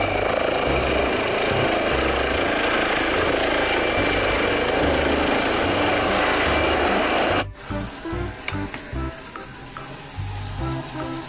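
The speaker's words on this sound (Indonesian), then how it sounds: "Ada helikopter." A helicopter roars loudly and continuously for about seven seconds, its dense, steady rotor noise cutting off abruptly, followed by scattered quieter clatter.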